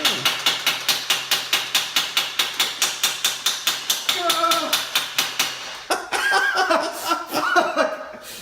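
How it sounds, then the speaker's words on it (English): Rapid, evenly spaced hammer blows ring out on metal bolts, close and loud, before the strikes become irregular and mix with laughter and voices near the end. "hit it with the hammer"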